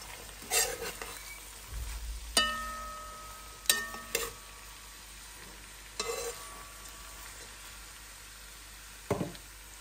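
Carrots frying in a pan for a warm tripe salad, a quiet low sizzle punctuated by sharp clinks and scrapes of a utensil against the cookware at irregular intervals.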